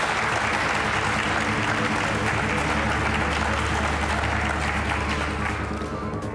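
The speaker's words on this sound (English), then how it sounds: "How about a nice round of applause for Julie Reed?" Audience applause at a live show, steady and loud with dense clapping throughout, fading slightly at the end.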